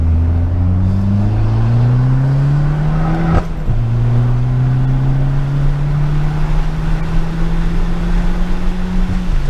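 A 165-horsepower turbocharged Abarth car accelerates hard on a straight road, the engine note climbing steadily, dropping briefly at a quick gear change, then rising again in the next gear, loud and close throughout.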